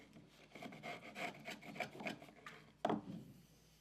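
The flat side of a chisel scrapes excess dried glue off wooden frame uprights in a series of short rasping strokes, ending with one sharper, louder scrape.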